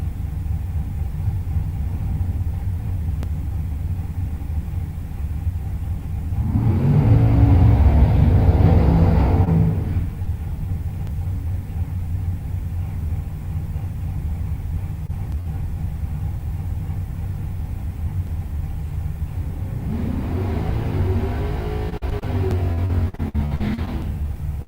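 Drag racing cars at Gainesville Raceway rumble under a constant low engine drone, with two louder roaring bursts of revving as cars do burnouts, heard from a distance with no speech.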